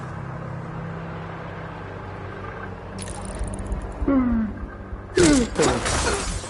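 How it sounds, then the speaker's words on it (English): Glass shatters in Dishonored 2, a sharp crash and then a second loud burst of breaking glass with tinkling debris, heard up close after a stretch of low ambient background. "That sounded like broken glass."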